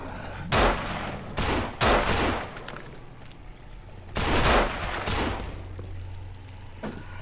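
Bursts of gunfire in the co-op zombie video game No More Room In Hell, several loud volleys in two clusters, with a short quiet gap between them.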